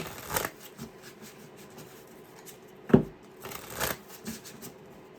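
Playing cards shuffled during a psychic tarot reading, sounding as several short papery riffling bursts spaced a second or so apart, with the clearest and loudest burst near the middle, nearby and otherwise quiet.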